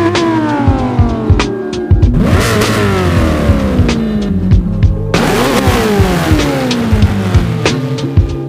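An Audi R8 V10 GT with rear-wheel drive revs hard in a Gran Turismo 7 trailer, its engine climbing and dropping through loud, continuous sweeps with sharp gear changes around two and five seconds, close and alone without talk.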